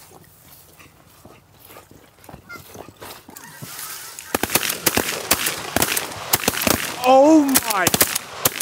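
Shotgun blasts from goose hunters in a New York hay field, a rapid series of sharp, loud cracks coming mostly in the second half, mixed with honking geese, while people exclaim nearby.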